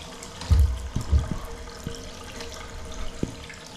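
Water flushes from a newly connected hot water pipe in a 1930s bathroom renovation, a steady close running gush with a few low knocks and thuds, no voices.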